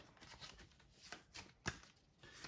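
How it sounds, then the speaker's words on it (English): A deck of cards shuffled by hand for the Resident Evil 3 board game, soft riffling and quiet taps, faint and close, with one sharper snap near the end. "I'm gonna shuffle the deck up."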